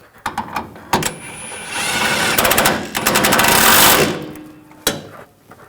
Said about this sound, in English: Tighten up the top bolt.